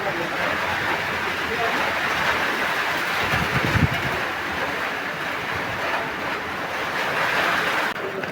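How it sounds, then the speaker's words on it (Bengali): Strong storm wind during a hailstorm with rain in Savar roars as a steady, dense broadband rush that holds for the whole stretch, loud and close, with slight surges and no clear pauses. "পুরা বাতাসে মনে হইতেছে যেন যে ঘর সহ উইড়ে যাইবে এমন অবস্থা"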